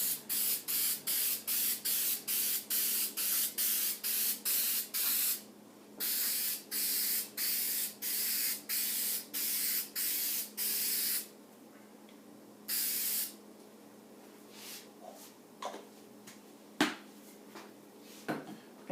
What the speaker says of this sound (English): I'm just going to spray some spray adhesive on it and stick the sandpaper on.